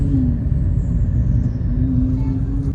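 A supercar's engine gives a steady, deep rumble close by, holding a low droning tone for the whole stretch with no talking over it.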